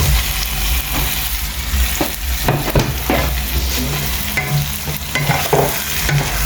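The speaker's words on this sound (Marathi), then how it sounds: "एग घालून दिता बरो मिक्स" Eggs are stirred into a sizzling gravy, giving a steady loud frying hiss with intermittent scraping stirs close by, without speech.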